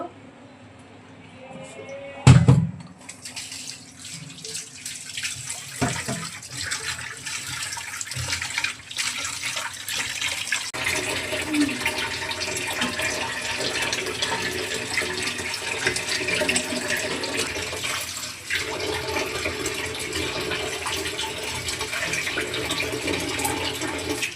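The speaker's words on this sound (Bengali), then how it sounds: "এখন মাছগুলো ভালোভাবে ধুয়ে নেব।" Rui fish being washed under a running kitchen tap: a sharp clunk comes early, then a steady, fairly loud rush of flowing water continues to the end.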